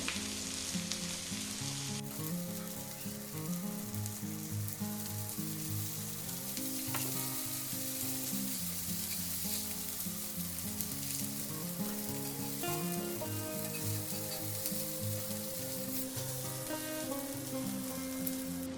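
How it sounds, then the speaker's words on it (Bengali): Black chickpeas frying in a pan over low gas: a continuous close sizzle and crackle that runs throughout, with a tonal background underneath and occasional stirring. "একটু স্লো গ্যাসে এটা ভেজে নিতে হবে তাহলে খুব ভালো এটা মুচিমুচি হবে"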